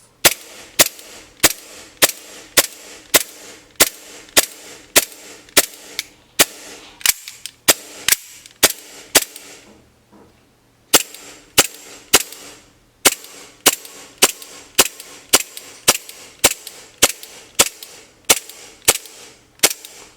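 Sharp, snappy shots from a used HFC M92 gas blowback airsoft pistol fire in quick regular bursts, each crack followed by a metallic slide clack, with a brief pause midway before firing resumes.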